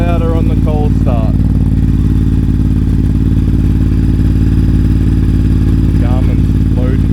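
A Ducati Desert X motorcycle with an SC Project exhaust idles steadily and loudly after a cold start, a constant low throbbing drone throughout, with a few brief voices speaking over it.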